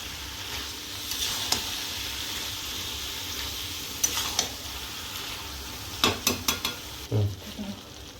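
Soybean chunks frying with spices in a pan: a steady soft sizzle throughout, with occasional utensil scrapes and a burst of stirring clatter near the end, close and fairly quiet.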